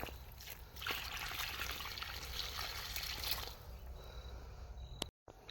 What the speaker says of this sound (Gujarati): પાણી નાખી દે આને ફટાફટ.